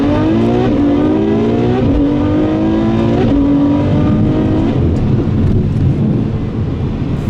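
A 2017 Ferrari F12 Berlinetta engine revs hard while driving, a loud, close, continuous roar with rising pitch sweeps as it climbs through the gears, alone without talk.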